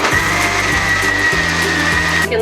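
A mixer grinder whirs at high speed, blending peanuts with cocoa powder into a paste, a loud steady motor drone with a shifting low churn until it cuts off.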